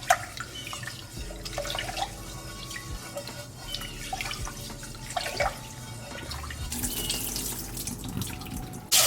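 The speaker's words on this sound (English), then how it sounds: "It has to be cold water, so make sure it's cold, okay? When you're washing your rice." Cold tap water runs into a sink while rice is washed by hand, a steady splashing flow with sloshing and dripping as grains are rubbed, close and moderately quiet, with a brief gush near the end.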